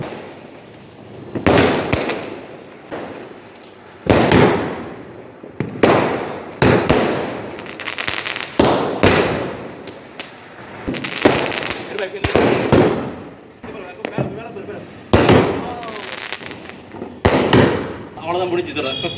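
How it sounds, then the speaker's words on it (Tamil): A 30-shot Diwali firework cake fires a string of loud, sharp bangs, each launch followed by a crackling burst at uneven intervals, while people talk nearby. "30 ஷாட் அவுட்டு இது."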